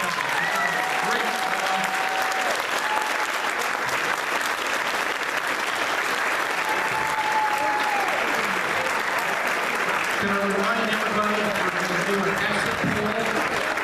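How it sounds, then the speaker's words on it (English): Sustained, dense audience applause at a 2014 senatorial candidates' debate in Anchorage, Alaska, steady and loud throughout, with faint voices and tones mixed in. "We have a nice round of applause for all three of these wonderful candidates."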